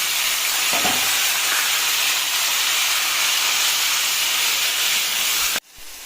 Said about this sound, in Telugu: ఇప్పుడు ఈ ప్యూరీని యాడ్ చేసేయాలి